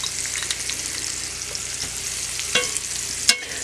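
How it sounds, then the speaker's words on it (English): Roast beef pieces sizzle steadily in a hot pan, a continuous close hiss broken by a few sharper crackles and stirring scrapes near the end. "You're going to start adding your roast beef to the pan."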